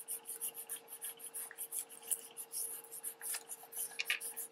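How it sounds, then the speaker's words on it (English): Wax paper rubbed by hand over a glued sheet to press out a wrinkle: a quick series of soft, even scratchy strokes, close and fairly quiet, with no voice. "I'm just going to rub it a little bit"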